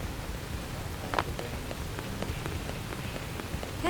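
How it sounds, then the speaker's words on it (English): Rain falls in the video game Xenoblade Chronicles X Definitive Edition, a steady hiss of droplets on surfaces with a few brief faint blips over it. "It's raining."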